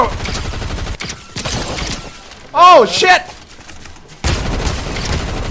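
Bursts of rapid gunfire in a Fortnite Zero Build match crackle at the start and again near the end, with a short exclaimed voice in the quiet middle section.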